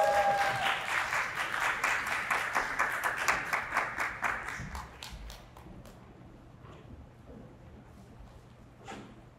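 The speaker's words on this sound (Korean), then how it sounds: "큰 박수로 부탁드리겠습니다." Applause from an audience at a hair salon company's half-year workshop, loud and dense at first with sharp individual claps, then thinning and fading out over the last few seconds.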